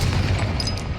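Confringo fire spell blast in the Hogwarts Legacy video game, a single loud booming burst with a rumbling low end, brief and close.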